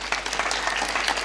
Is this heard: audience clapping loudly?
yes